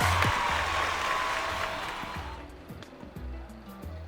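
Audience applause at a film awards show, a broad wash of clapping that swells at first and then fades away, leaving scattered thumps and room noise.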